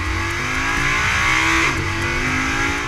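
An Audi R8's Lamborghini-derived V10 revs loudly and continuously close by, its pitch climbing and then dipping briefly near the end, with no voices over it.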